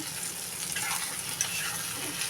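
Close, crackling sizzle of fish frying lightly in a pan, with soft stirring scrapes through the short stretch, no talking.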